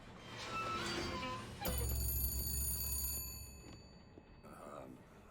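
A telephone rings in BioShock Infinite, a shrill electronic bell trilling for over a second and then cutting off, with game speech and sounds before it and faint talk after.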